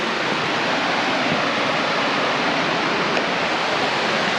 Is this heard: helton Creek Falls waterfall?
yes